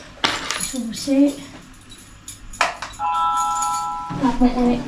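A shop's keys jangle in a few brief, bright metallic clinks, close and separated by short pauses, with a voice speaking in between.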